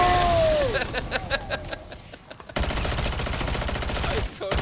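Rapid gunfire in MW3 Zombies, a dense stream of loud shots running through most of the moment with a brief gap midway, set among game noise and faint voices.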